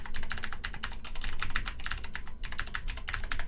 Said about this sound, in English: I can just type this in again.